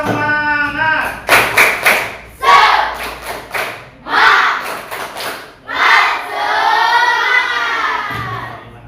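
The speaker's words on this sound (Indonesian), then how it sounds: "Tepuk semangat." A school class performs a rhythmic spirit clap, bursts of sharp unison claps in patterned groups alternating with loud shouted chants from the children, close and energetic.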